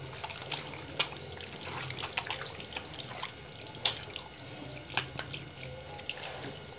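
Hands are washed under a running tap, a steady soft stream of water broken by intermittent splashes and rubbing, faint and close, with no talking.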